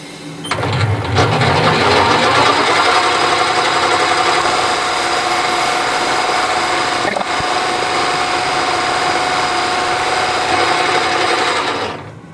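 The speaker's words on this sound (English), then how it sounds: "So I've got the sensitive drill." A steady, high-pitched mechanical whir of a small sensitive bench drill drilling a hole in a part for a compact power hacksaw's dashpot damper, running continuously for about twelve seconds, with a brief dip midway.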